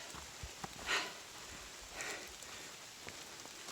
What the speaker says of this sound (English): getting a little bit of sweet rain here